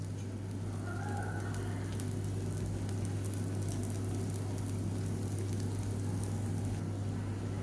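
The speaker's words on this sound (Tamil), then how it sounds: "முட்டையை உடச்சிட்டு இந்த மாதிரி நல்லா எல்லா இடமும் பரப்பி விட்டுருங்க" Egg spread over a spicy Madurai-style dosa sizzles on a hot griddle, a steady, loud crackling hiss over a low, constant hum.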